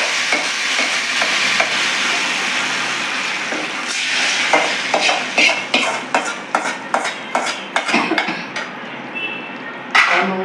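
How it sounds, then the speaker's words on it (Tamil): Hot tempering is poured into Tirunelveli-style paruppu kulambu and sizzles loudly at first. A run of rhythmic metallic knocks and scrapes from a ladle against the pot follows, close up with no talk. "தாளிச்சதை குழம்புல ஊற்றிக்கலாம்."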